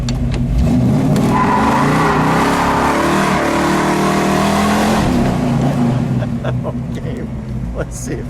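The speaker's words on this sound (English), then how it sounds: "Put in a good burnout for you, too." A black 1979 AMC Spirit AMX 360 V8 roars through a line-lock burnout, its engine held at a loud, sustained rev for several seconds before easing off.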